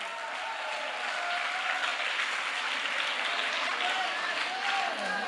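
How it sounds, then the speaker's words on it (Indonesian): Audience at an interactive candidate dialogue for an Islamic student organization gives a sustained, even round of clapping with faint voices mixed in. "Beri tepuk tangan sekali lagi"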